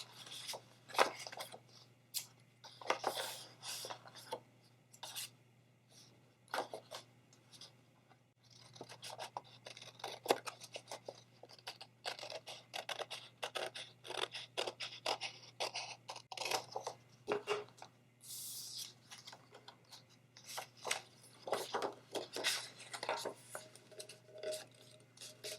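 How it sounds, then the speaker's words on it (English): Cutting through part of an upcycled bread crumb container during a Mod Podge craft project gives a long stretch of rough, scratchy rasping and scraping strokes, close and fairly quiet, continuing steadily with brief pauses. "So I'm just going to cut that off now."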